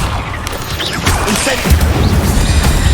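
In Hogwarts Legacy, an Accio spell pulls a platform toward the caster, a loud magical whoosh with rumbling, scraping booms and mechanical clatter rolling on for a few seconds.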